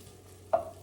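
Shallot cooking down in about two tablespoons of salted butter in a pan, a quiet steady sizzle with one brief louder burst of frying partway through, no one talking.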